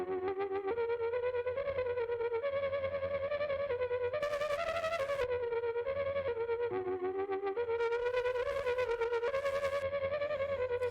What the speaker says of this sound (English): We've added distortion, and now we're going to trim away a little bit of the aggressive stuff on top.